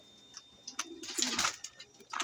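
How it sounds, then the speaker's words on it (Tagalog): Pigeons coo softly in a loft, a few low murmuring calls rising and overlapping with some light rustling and chirps, close by and fairly quiet. "Ayan, yung mga ibon natin."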